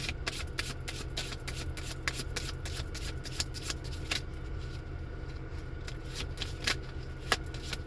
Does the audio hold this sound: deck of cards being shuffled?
yes